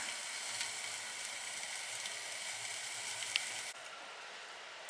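Ribeye steak searing over direct heat on a Kamado grill: a dense, steady hiss of sizzling fat, fairly close, which drops abruptly near the end, with no talking.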